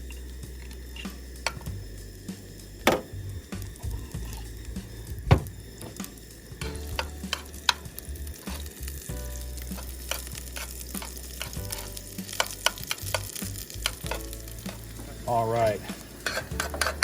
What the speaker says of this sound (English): hot grease, seasoned loin